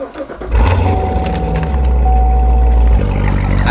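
A Chevrolet Corvette C7 with its stock exhaust idles while warming up, a loud, steady low rumble that starts after a brief quieter moment and holds evenly throughout.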